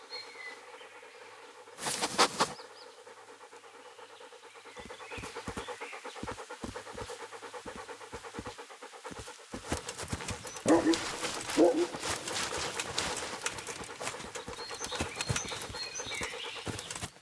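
A dog in the Kingdom Come: Deliverance video game pants with quick rhythmic breaths while sniffing around, steady through the whole stretch, with busy clopping and game ambience layered underneath.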